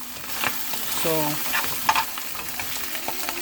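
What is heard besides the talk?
canned corned beef frying in a pan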